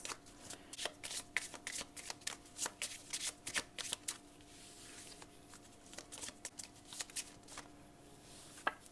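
Lenormand cards are shuffled by hand in a rapid run of crisp riffling flicks, close and fairly quiet, followed by a pause and a few softer card snaps as cards are drawn; no speech.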